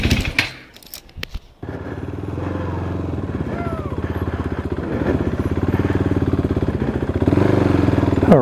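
A KTM 390 Duke single-cylinder motorcycle engine idles steadily after a few sharp clatters, its even, close-up chugging holding for several seconds with a slight rise near the end.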